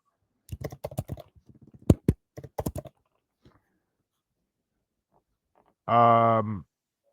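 Short bursts of rapid clicking keystrokes on a computer keyboard, close and crisp, followed by a pause and then a brief loud electronic tone.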